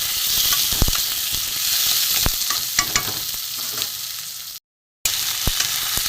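Garlic, onion and potato frying in a pan for a fish curry, with a continuous close sizzle and sharp spatula clinks and scrapes, broken by a half-second gap near the end.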